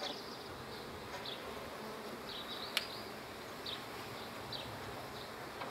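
Bees buzz steadily and faintly around a beehive frame holding capped brood, a continuous hum with a few louder insects passing close.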